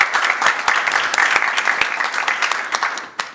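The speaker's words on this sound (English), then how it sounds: "A round of applause for Annabelle." An audience at a hybrid media literacy forum in Helsinki applauds steadily for a few seconds, the clapping fading slightly near the end, with no talking over it.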